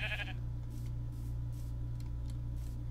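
A sheep in the Minecraft server Crundee Craft lets out a short, fairly faint bleat at the very start, followed by a steady low hum and soft scattered clicks.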